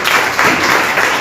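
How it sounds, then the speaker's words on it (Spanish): A church congregation breaks into applause at a Sunday morning Bible study, dense steady clapping filling the room at full volume without a break. "darle un gran aplauso a nuestro Padre en esta mañana"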